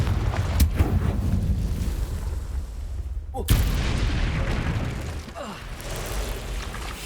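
A Confringo explosion spell cast in Hogwarts Legacy lands as one sharp burst mid-clip over a steady low rumble of game ambience, followed by a softer impact a couple of seconds later.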